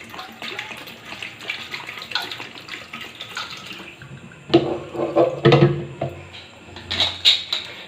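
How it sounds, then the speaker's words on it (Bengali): Water pouring into a pressure cooker while boiling potatoes for aloo puri, a splashy burst of filling after a quieter stretch of kitchen noise, close and moderately loud. "প্রেসার কুকারের মধ্যে দিয়ে দেবো সামান্য পরিমাণ জল"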